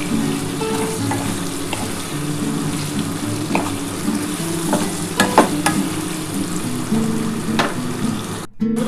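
Pieces of elephant foot yam sizzling in hot oil with turmeric and salt, a steady close frying hiss broken by a few scraping stirs and clicks of a utensil against the pan.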